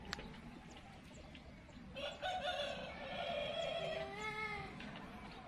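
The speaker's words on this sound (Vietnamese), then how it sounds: "Ngang hông thì người ta cũng đang nuôi gà nè, nuôi gà rất là nhiều luôn" Chickens raised in large numbers beside a rice-field plot in Cần Giuộc cluck and crow at a moderate distance, a rooster's call rising over soft outdoor background noise.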